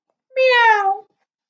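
A single drawn-out cat meow, clear and close, rising then falling in pitch and lasting under a second, with silence around it.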